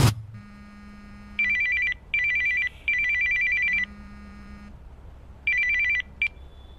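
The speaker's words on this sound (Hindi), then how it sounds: "मेरे पास एक फोन कॉल आया।" A telephone rings in repeated electronic bursts: a bright warbling tone sounds in several rhythmic pulses separated by pauses, fairly loud and close, over a low hum, with no one speaking.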